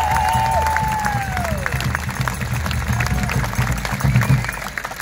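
Outdoor crowd at a political rally in a Brisbane park, clapping and cheering in a steady, dense wash of applause under scattered voices and shouts, with a whistle-like tone sliding early on.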